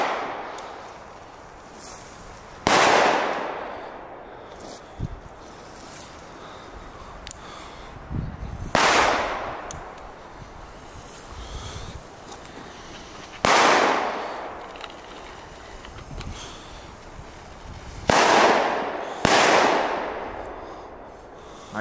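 Belgian fireworks set off outdoors, a series of sharp loud bangs spaced a few seconds apart, each followed by a decaying echo across the surroundings.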